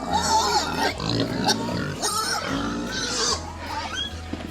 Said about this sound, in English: We'll feed her first, and then we'll give Spunky a little food, and then we'll feed the piglets the rest of it